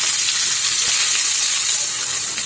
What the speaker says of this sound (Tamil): நான் வெங்காயம் போட்டுக்கிறேன்